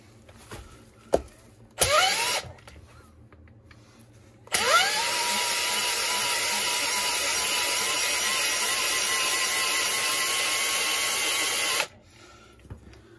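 A honing tool fitted with coarse stones works a cylinder bore, with a brief spin-up and then a long steady whirring run of about seven seconds, close and even, with no talk.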